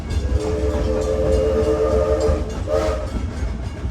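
Six Flags amusement park ride train, its whistle sounding in sustained tones over the steady rumble of the cars rolling along the track, close and loud, with a second short whistle blast near the end.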